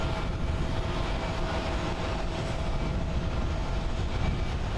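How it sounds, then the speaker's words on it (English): A Lufthansa Boeing 747 taxiing toward the runway for departure at Haneda International Airport in Tokyo, a steady, broad engine rumble and whine that holds constant throughout. "Which Lufthansa is making her way to the runway for departure."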